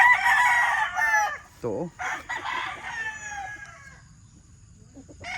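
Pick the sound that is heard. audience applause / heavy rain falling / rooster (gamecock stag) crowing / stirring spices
rooster (gamecock stag) crowing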